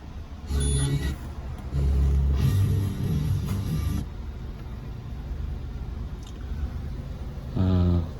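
A Peugeot 407 with a depollution fault is started, its engine cranking and catching in loud bursts, then idling with a low steady rumble, close up, before another rev near the end.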